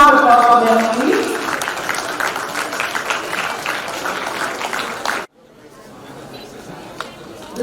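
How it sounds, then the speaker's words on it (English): An audience at an Indian Army national quiz semi-final applauds a school team, a dense roll of clapping with some chatter that fades out abruptly, leaving a quieter hall. "A big round of applause for them"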